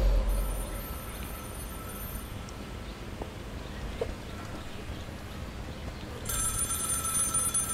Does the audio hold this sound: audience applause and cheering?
no